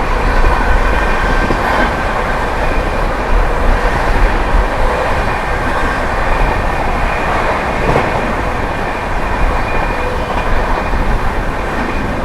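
The 02563 Barauni New Delhi Clone Express races along at speed, a loud continuous roar of wheels and wind with rhythmic rail clatter running unbroken throughout.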